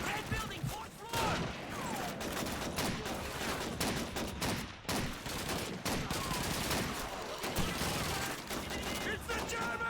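Sustained gunfire from an MG42 machine gun in Call of Duty 2 fills the whole stretch as dense bursts and overlapping shots, loud and continuous, with battle noise and faint voices mixed in.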